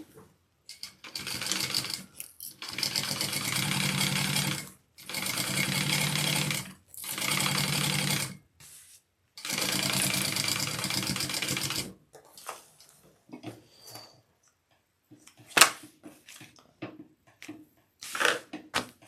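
Sewing machine basting a lining piece onto a handbag, running in four steady bursts of a few seconds each with short pauses between, followed by quieter handling clicks and rustles.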